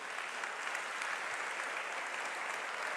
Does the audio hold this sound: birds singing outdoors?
no